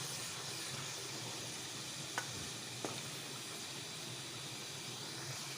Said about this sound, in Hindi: ये देखिए ये फ्राई हो रहा है।